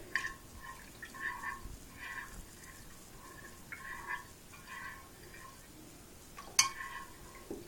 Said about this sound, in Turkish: her tarafına dağılsın diye güzelce karıştırıyorum